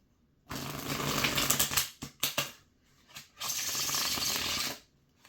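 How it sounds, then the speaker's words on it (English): Tarot cards shuffled close by in two riffling bursts, separated by a few sharp taps as the deck is squared, then a brief pause. "I'll give this a nice shuffle."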